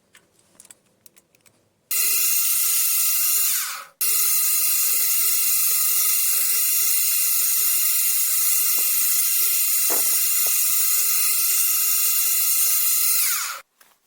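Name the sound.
drilling and tapping flanges for a centring microscope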